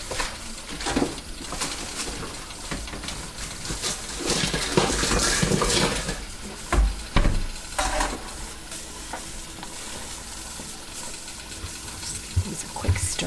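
Egg noodles stirred in a pot of boiling water on the stove, a steady bubbling and roiling churn with spoon scrapes and splashes running continuously at close range.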